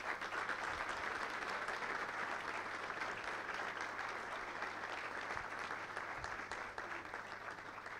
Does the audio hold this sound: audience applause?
yes